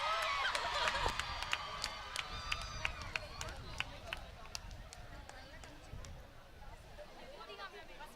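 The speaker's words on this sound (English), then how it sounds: "Give an applause." An audience at a college engineering sports day claps in a steady crackle of applause, with crowd murmur underneath and the sound slowly thinning out over several seconds.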